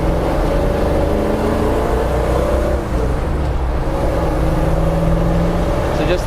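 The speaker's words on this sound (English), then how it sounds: "Just light throttle, pulls nice and easy." A 1968 Ford Bronco with a Windsor V8 pulling on light throttle, a loud steady engine drone with a smooth low hum and gentle pitch shifts, unbroken for the whole stretch.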